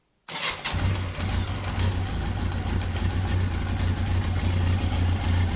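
A Yamaha XJ 900 F motorcycle engine fires up and settles into a steady, loud idle with a low, even throb during carburettor synchronising. It runs close and continuous, with no voices.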